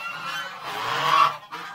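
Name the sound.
goose honking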